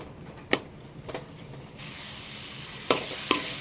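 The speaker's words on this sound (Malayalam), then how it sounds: "തക്കാളി നന്നായിട്ട് വഴണ്ട് വെന്തിറങ്ങട്ടെ" Tomatoes sautéing in hot oil in a pan for tomato rice, a steady close sizzle that swells louder partway through, broken by a few sharp stirring clinks and scrapes.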